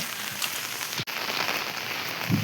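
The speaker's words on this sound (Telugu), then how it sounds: "ఇప్పటిదాకా వాన అయితే మామూలుగా పడలేదు. అసలు పడుతూనే ఉంది గట్టిగా పొద్దున్న నుండి ఇప్పటిదాకా." Heavy rain pours steadily on a windy village, a dense, even hiss that runs the whole time with one brief dropout midway and no voices.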